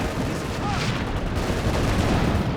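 Gunfire from a Panzer IV tank in Company of Heroes 2 merges into a continuous, loud wash of booming battle noise and scattered shots, with no distinct pause across the span.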